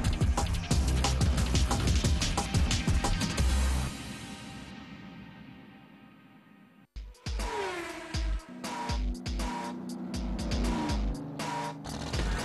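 Motorsport car engine revving hard and driving past, loud and close, with the engine note falling away, a brief gap, then the revving returning strongly.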